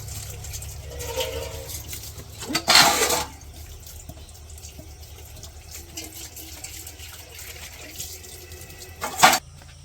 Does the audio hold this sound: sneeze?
no